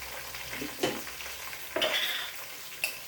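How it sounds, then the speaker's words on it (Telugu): Green chillies frying in hot oil for an Andhra-style country chicken curry, a steady close sizzle with a few sharper crackles and spoon scrapes as they are stirred, no voices. "ఇప్పుడు పచ్చిమిరకాయలు వేస్తున్నాను"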